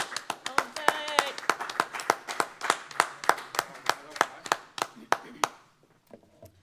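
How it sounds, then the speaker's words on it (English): Clapping from an audience welcoming a speaker to the podium at a resilience summit, a steady rhythmic series of sharp hand claps that thins out and stops after about five seconds, with faint voices near the end. "I want y'all to welcome Jose to the home and to the podium."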